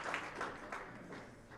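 An enthusiastic squash crowd at a professional championship applauds, a brief burst of steady, fairly faint clapping heard from a distance.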